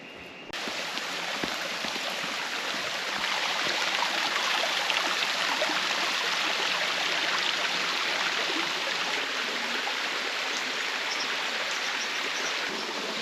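Steady rush of a rainforest stream and waterfalls in the Bunya Mountains, a continuous broadband wash of flowing water close by, holding even from start to finish with no voices.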